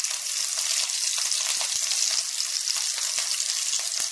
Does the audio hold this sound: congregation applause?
no